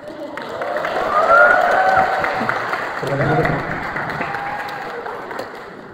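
Audience applause fills a hall at a Qur'an completion ceremony and entrepreneurship seminar at Ma'had UIN Bandung, rising to a steady swell and holding for several seconds while a voice speaks over it.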